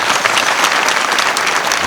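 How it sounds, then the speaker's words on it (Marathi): An audience at a Ram Navami kirtan claps loudly and steadily, a dense, continuous wash of many hands close by with no break. "टाळ्या टाळ्या टाळ्या."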